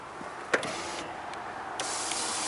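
Power window motor of a 2004 Dodge Ram, wired through a jumper and 20 amp fuse, whirring steadily when switched on, a faint close hum with a small click near the start.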